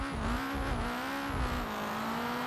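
Front-wheel-drive car accelerating hard off the line in a BeamNG quarter-mile drag race, a loud steady engine drone with a rising whine and faint tire noise, close and sustained throughout.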